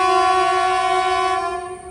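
Chennai–Alleppey Express arriving at Ernakulam South, its horn sounding loud and steady as a sustained tonal blast that fades slightly at the end, with no one talking.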